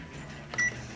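A single short electronic beep from a microwave keypad as a four-minute timer is set for a non-frozen vegan fire roasted vegetables bowl, brief and clear over a quiet room hum.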